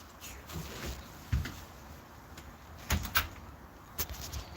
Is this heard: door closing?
yes